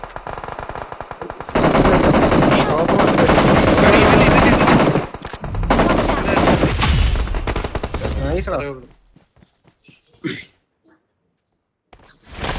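Loud bursts of rapid automatic gunfire rattle for several seconds, then break into a few scattered shots and pauses.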